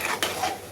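A pot of jackfruit curry is lifted off the stove, giving a single brief metallic clunk against a low kitchen background, close and short, with no talking.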